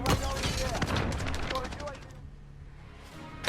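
Ram 7 assault rifle gunfire in a video game gunfight, dense rapid bursts of shots overlapping with talking voices for about two seconds, then a quieter pause and a final short burst near the end.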